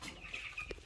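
Fourteen-day-old broiler chickens on a poultry farm cluck softly while feeding at food and water, scattered short calls over a low hum of the flock.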